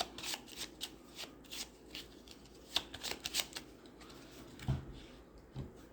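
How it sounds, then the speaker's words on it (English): A deck of cards is shuffled during a tabletop game round, giving a run of crisp riffling bursts and soft slaps with a couple of heavier knocks near the end, heard up close with no talking. "flip this back over, give it a shuffle."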